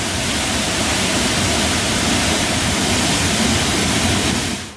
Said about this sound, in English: There's a raging river down there.